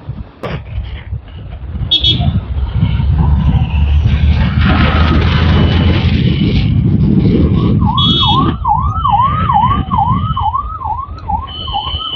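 A wailing siren rises and falls in rapid repeated sweeps, loud and close, over rushing traffic noise.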